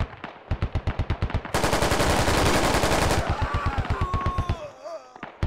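Rapid automatic gunfire in the military shooter game Squad, a steady rattle of bursts rising into a dense sustained barrage near the listener before breaking back into scattered shots.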